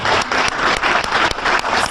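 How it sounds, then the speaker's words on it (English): Audience at a Pakistani American youth conference bursting into sustained applause, dense clapping throughout a short stretch with no talk over it. "So I think that deserves an applause by itself."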